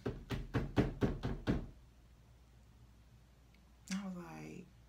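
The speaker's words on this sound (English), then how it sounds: "how the door was being banged on" A door is banged on hard, six loud knocks in quick succession, followed by a pause and then a brief burst of a person speaking.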